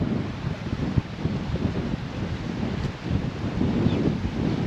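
Wind buffeting the microphone during an e-bike ride on a HOVSCO 27-inch cruiser along South Daytona Beach Shores, a steady rough low roar with gusty flutter throughout, no voices.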